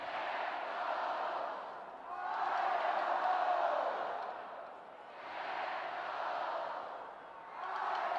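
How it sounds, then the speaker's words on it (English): A homecoming crowd of Idaho Vandals fans chants and cheers at a college football game against Northern Colorado, a broad roar swelling and falling in repeated waves, heard from a distance. "we're getting some Idaho Vandal chants, and this homecoming crowd is coming alive"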